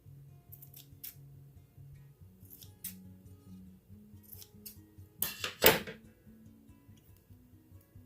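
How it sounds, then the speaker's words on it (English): Scissors cutting fabric snip several times, crisp metallic cuts spaced apart, with one louder close snip near the end over a faint low hum. "take your scissors, and I do a slant like that"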